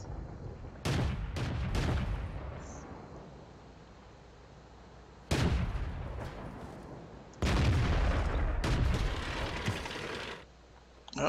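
Tank guns firing in World of Tanks: three heavy, sharp blasts, each trailed by rumbling decay and mechanical clatter, separated by quieter stretches of engine noise.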